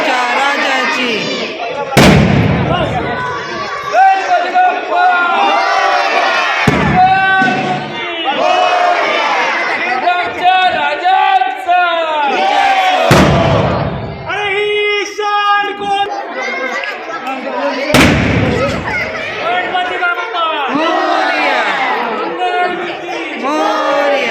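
Firecrackers explode during a Ganesh immersion procession, with four sharp, loud bangs spread across the stretch while a crowd cheers and shouts continuously throughout.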